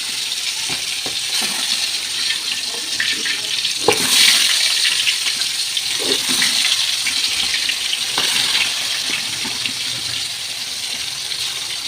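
Pangas fish pieces are dropped one by one into hot oil on a gas stove, giving a loud, continuous frying sizzle that swells with crackling bursts as each piece goes in.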